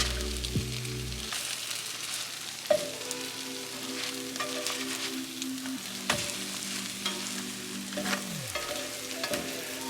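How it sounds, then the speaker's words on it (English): French toast sizzles steadily in butter in a pan, a continuous crackling fry with scattered pops and spatula scrapes, close and alone with no talking. "every time you flip it, you just want to add a little bit of butter so that butter can go in and fry those edges up"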